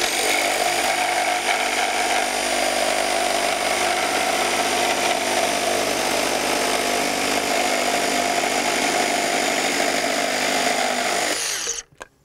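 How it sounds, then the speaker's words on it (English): A DeWalt FlexVolt reciprocating saw with a 9 amp-hour battery makes a straight cut through a 4x6 timber, a loud continuous buzzing whine held steady for about twelve seconds before stopping abruptly. "we're just doing straight cuts through a 4x6"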